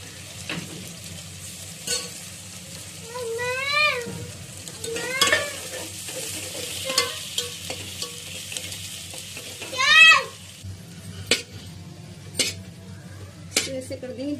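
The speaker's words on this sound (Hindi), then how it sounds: "अब इसको फ्राई कर लेते हैं" Six or seven chopped onions fry in oil in a pan, a steady sizzle under repeated close spoon scrapes and metal clinks against the pot, with a few brief rising squeaks from the stirring.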